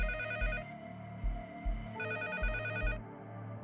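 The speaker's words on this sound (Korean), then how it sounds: "오후 3시 30분경 119로 다급한 신고 전화가 하나 들어옵니다" An emergency 119 call coming in on a telephone: two clear bursts of electronic ringing, each lasting under a second, with a short gap between them over a faint low hum and no talking.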